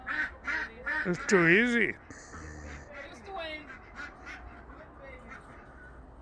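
Ducks quack loudly in a burst of several close, nasal calls during bird wrangling near a bird cage, then quieter honks and rustling follow as a person speaks briefly.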